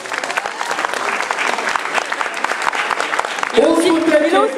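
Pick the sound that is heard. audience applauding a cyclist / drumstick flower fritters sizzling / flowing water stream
audience applauding a cyclist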